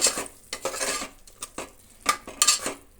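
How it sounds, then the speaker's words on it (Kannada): Ingredients for biryani being fried and stirred in a pot, with irregular metallic scrapes and clinks of a spoon against the pot over a light sizzle, close up and without speech. "ಈಗ ಅದನ್ನು ಕೂಡ ಒಂದು ನಿಮಿಷ ಫ್ರೈ ಮಾಡೋಣ"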